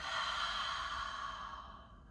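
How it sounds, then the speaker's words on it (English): A long, deep exhale during a calming yoga session, a breathy airy whoosh heard close and alone that fades gently over about two seconds. "Big exhale out."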